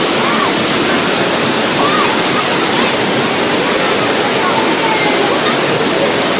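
Waterfall at Spring Falls, a crowded public beach, pours as a loud, steady broadband roar of falling water that fills the whole stretch without pause, with faint crowd sounds buried beneath.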